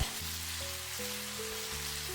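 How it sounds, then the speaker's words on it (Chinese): Tofu fries in hot oil in a pan, turning golden on its second side, with a loud, steady, dense sizzle and crackle from start to end, close up, with a low hum underneath. "我們就翻過來煎另外一面。 我們要把2面都煎至金黃，煎出香味。"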